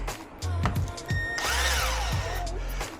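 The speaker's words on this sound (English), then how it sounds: "we're gonna use that guide plate and we're going to drill these holes out" A 1/8 inch drill bores holes for a battery tray install at the rear of a truck, with short bursts of spinning whine and a longer grinding pass, close and moderately loud.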